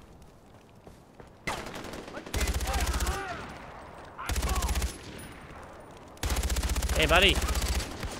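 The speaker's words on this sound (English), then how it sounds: "Where am I getting shot from?" Bursts of automatic gunfire in Far Cry 4 come in three sustained, loud volleys separated by short quieter gaps, and a voice speaks briefly during the shooting.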